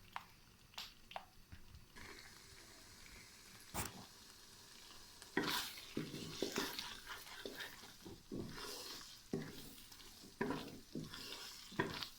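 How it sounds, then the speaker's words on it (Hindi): Green peas being fried and stirred in a masala in a pan, with a steady sizzle broken by repeated spoon scrapes and stirring taps, moderately quiet and with no talking. "अभी मसाले में हम अच्छे से भून लेंगे।"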